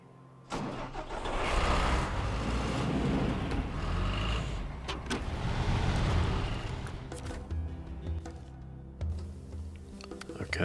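Vehicle engine in SnowRunner starts up and runs, a loud mid-pitched motor droning and revving steadily with occasional clunks as it drives off, close and continuous.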